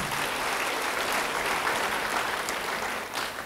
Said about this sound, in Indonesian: Beri tepuk tangan bagi dia.